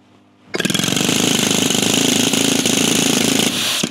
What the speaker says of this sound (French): premier lieu, ici, la foreuse air comprimé